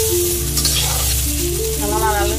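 Potatoes frying in a pan with turmeric and salt give a steady close sizzle, with a few faint utensil clinks and a hum underneath, no talk.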